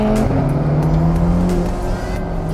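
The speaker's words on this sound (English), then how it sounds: "It is a V8 twin turbo rather than the V12 you get in the normal Lusso" A Ferrari GTC4 Lusso T's twin-turbo V8 drones loudly and steadily as the car drives, the engine note rising slightly in pitch, with road and wind noise around it and no talking.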